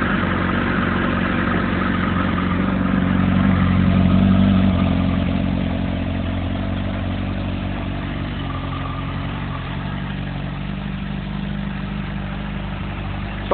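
A 2007 Kawasaki ZX10R motorcycle engine idles after a cold start on a chilly morning around 47 degrees, a steady, low, rumbling idle that swells slightly, then settles, heard close and alone throughout.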